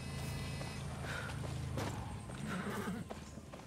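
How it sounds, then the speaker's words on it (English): In the video game Far Cry 6, a horse whinnies and its hooves clip-clop at a walking pace close by, with a second softer neigh near the end. "It's my horse."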